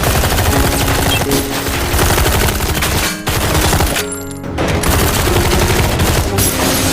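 A long-barreled rifle fires in a film scene: loud, sustained rapid gunfire that pauses briefly before the volley resumes.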